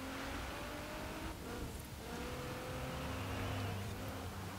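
2018 Kia Stinger with extra power running an autocross course in Forza Horizon 4, its engine a faint, steady buzzing drone with slight rises in pitch, alone and continuous.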